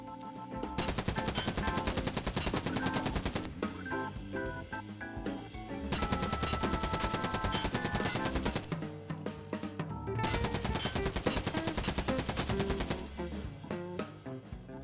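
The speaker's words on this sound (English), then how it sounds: "3 rounds of point shooting, then ADS shooting, then point shooting with the laser, and then ADS shooting with the laser" A UMP45 submachine gun fires in Escape From Tarkov in three long bursts of rapid, steady shots, loud and close, with short pauses between strings.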